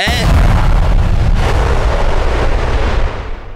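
A bomb in the Motu Patlu cartoon goes off in a loud, booming blast that fills the soundtrack for about three seconds, then rumbles and fades away.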